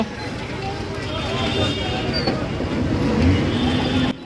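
A train rumbles past nearby in Narsingdi, Bangladesh, a steady heavy roar with clanking and a brief screech, ending abruptly; street noise and voices mingle underneath.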